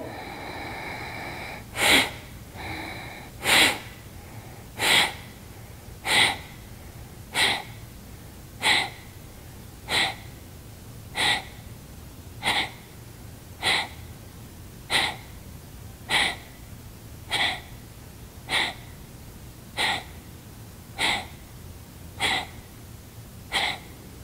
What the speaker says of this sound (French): pour faire sortir l'air, un peu comme un soufflet pour le feu